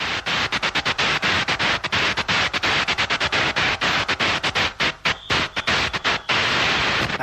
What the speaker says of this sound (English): he's taking the ground cable and putting it on the back of the mixer to make that static noise